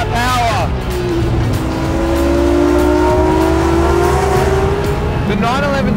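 A Porsche 911 GT3 Speedster engine roars loudly as it accelerates, its pitch climbing steadily with a rasping exhaust, bracketed by brief sharp revs at start and end.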